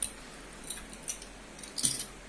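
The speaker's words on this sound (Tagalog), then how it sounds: "Next is yung ating susi." Car and motorcycle keys jangle in a few short, bright metallic bursts, close and fairly quiet, with the loudest shake near the end.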